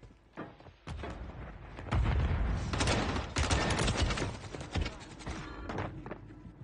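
Rapid bursts of launcher and gunfire from Call of Duty: Warzone, loud and dense, with heavy booming thumps layered over continuous shooting and a brief quieter start before the barrage.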